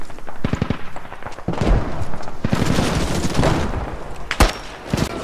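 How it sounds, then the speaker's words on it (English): Gunfire from people shooting: dense bursts of rapid shots and heavy volleys, loud and close, continuing for several seconds with a sharp single crack near the end. "They're shooting at us!"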